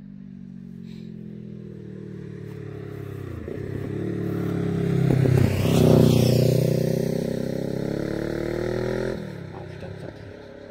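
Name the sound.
motorcycle passing by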